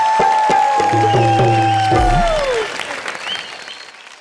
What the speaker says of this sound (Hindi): जोरदार तालियां मास्टर जी के लिए